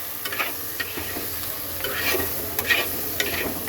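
Taro pieces frying in oil with green chili, turmeric and coriander powder, a soft steady sizzle up close with several light scraping stirs of a spatula scattered through it.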